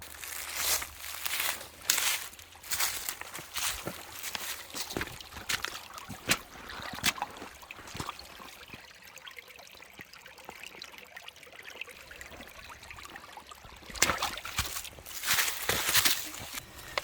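Creek water trickles and flows steadily at a campsite, with bursts of rustling and crinkling from handling gear over it and no talk.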